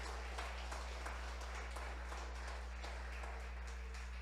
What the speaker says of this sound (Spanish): Dale ese aplauso fuerte si se lo vas a dar.